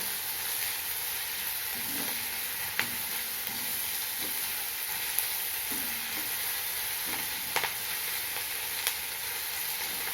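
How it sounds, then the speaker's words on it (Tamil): Fresh curry leaves sautéing in hot oil for dal adai, a continuous close sizzle with occasional soft stirring taps, no voices. "ரொம்ப வதங்கணும்னு அவசியம் இல்லை சீராக வதக்கினா போதும்"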